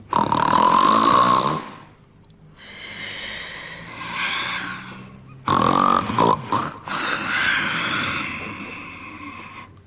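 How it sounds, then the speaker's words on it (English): A giant snores loudly with rumbling, harsh, nasal rasping, coming in long heavy breaths separated by quieter pauses, close and prominent. "he fell asleep and snored"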